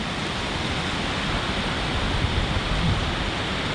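A waterfall near a copper mine entrance roars as a steady, loud broadband rush, constant throughout with no pauses and no talk.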